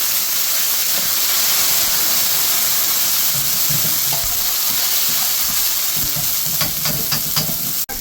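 Ginger and garlic paste frying in a pan for a fish curry, a loud continuous hissing sizzle close by with scattered stirring scrapes, ending abruptly.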